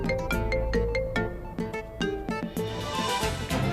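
A phone ringtone plays a repeating melodic tune for an incoming call in a domestic scene, steady and moderately loud with no speech over it.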